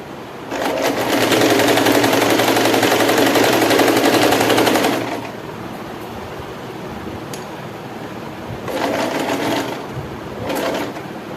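Sewing machine stitching lace onto a saree fold, running loud and steady for about five seconds, then falling quiet before two shorter bursts of stitching.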